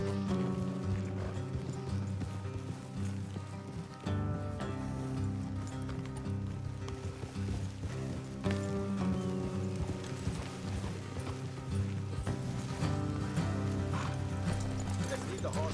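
Several horses gallop along a road in the Western game Red Dead Redemption 2, with steady rhythmic hoofbeats, occasional whinnies and a music score, while characters talk over the riding.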